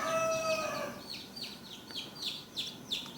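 A hatching chick cries out in loud, high peeps over a thin background hum, then gives a quick series of short, evenly spaced chirps.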